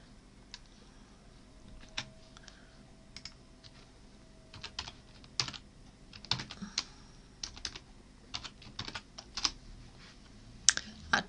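Computer keyboard typing in CAD software work, scattered clusters of quiet keystrokes with pauses between bursts, close and soft with no talking.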